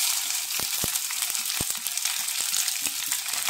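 Chopped medium onions and curry leaves with cumin fry in hot oil in a pan for masala mushroom curry, a steady bright sizzle with occasional sharp pops and crackles, no talk.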